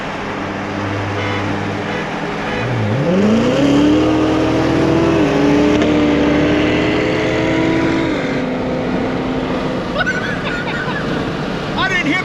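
A C7 Corvette Z06 engine revs up and accelerates hard, its pitch climbing then holding a loud, sustained roar for several seconds before easing off.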